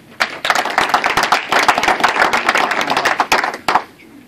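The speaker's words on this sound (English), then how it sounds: "Round of applause for David." Applause from a launch-event audience in Troy, Michigan, greeting the next speaker: dense, fairly loud clapping that swells quickly and runs for about three seconds with sharp individual claps standing out, then tapers off abruptly near the end.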